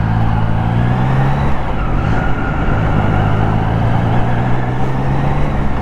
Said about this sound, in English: So this engine is not that insanely high revving engine.